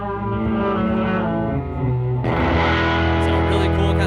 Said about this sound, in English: This is a reverse gated reverb.